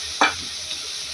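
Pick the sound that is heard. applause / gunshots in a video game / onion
onion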